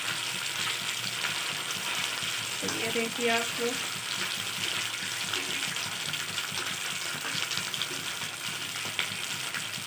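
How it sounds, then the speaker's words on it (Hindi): Malai chaap sizzles and fries in hot oil on a medium gas flame, a steady crackling hiss throughout, with someone speaking briefly over it and a short burst of spattering as pieces go in. "आराम से डालना क्योंकि तेल थोड़ा इसमें पानी आनी होता है, तो वो तेल उछलता भी है"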